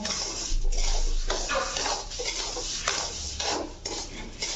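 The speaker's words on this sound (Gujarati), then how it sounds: "આવી રીતે તમે હલાવશો એટલે તે ખખડતો હોય એવી અવાજ આવશે" Semolina being dry-roasted in a pan over low heat, stirred with a utensil that gives repeated rhythmic scraping and rattling strokes, close and fairly loud with no talk.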